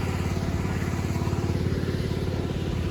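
A tractor's diesel engine idles close by in a steady, rapid chugging rhythm that stays loud and even throughout, during rice sowing on a farm.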